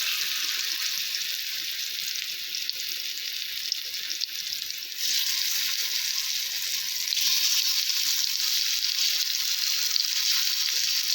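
Brinjal slices shallow frying on a tawa over medium flame give a steady, close hiss of sizzling oil that grows slightly louder midway and again near the end, with no talking.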